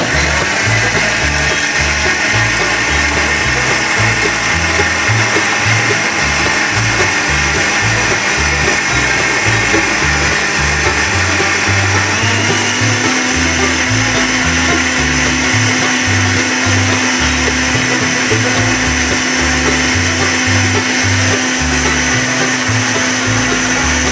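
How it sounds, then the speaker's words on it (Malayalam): An electric blender runs continuously, crushing watermelon juice with ice cubes, a loud, close motor roar with a grinding churn that holds steady for the whole stretch, with no talk. "ഇനി ഇത് നമുക്ക് എല്ലാം കൂടെ നന്നായിട്ടൊന്ന് അടിച്ചെടുക്കാം."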